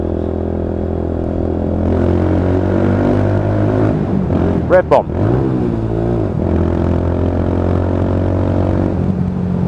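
A Lexmoto Tempest motorcycle engine idles with a rough, throaty exhaust burble, then briefly revs up and settles back; a voice speaks briefly over it.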